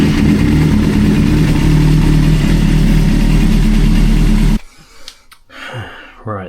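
A Suzuki GSX-R 400 motorcycle engine runs loud and steady close by, its rough idle filling the space until it cuts off abruptly, leaving faint handling noises behind.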